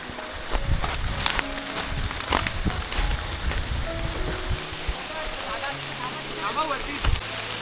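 Heavy monsoon rain falls in a forest, a dense, loud wash of water that never lets up, with scattered drips and splashes. Faint voices and rustling sit underneath.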